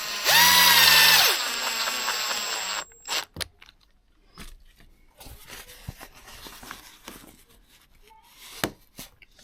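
Poppers fitted onto curtain edges inside a VW Caddy camper van: a brief loud whirring tool burst, then a series of sharp scattered clicks and snaps at close range, mostly quiet between them.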